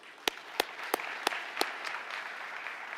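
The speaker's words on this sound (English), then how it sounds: "One more round of applause, please." An audience at a municipal awards ceremony applauds, a soft, diffuse wash of clapping with about five sharper claps near the front at steady intervals.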